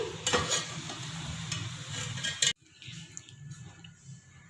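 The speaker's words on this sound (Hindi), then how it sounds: "अब हम इसको डिश आउट करते हैं" Mutton biryani scooped out of a cooking pot, soft scraping and stirring of rice against the metal with a few small clinks, close and quiet.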